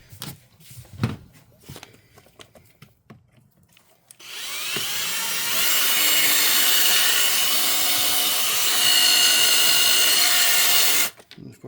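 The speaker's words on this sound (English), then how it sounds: "Next step is to get your drill out. You have 2 rivets, one here, and those need to come off next." A power drill bores out rivets on the soft top of a 1996 Mazda Miata, with a few scattered handling clicks and knocks before a sustained, loud, close-up whirring grind that runs for about seven seconds, then stops abruptly.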